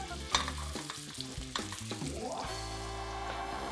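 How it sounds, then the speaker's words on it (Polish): Chicken frying slowly in oil alongside bacon, with a steady sizzle and occasional stirring clatter; a bright sharp sound sits on top of the frying in the opening seconds. "Powolutku będę go smażył."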